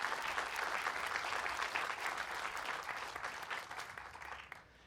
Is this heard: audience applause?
yes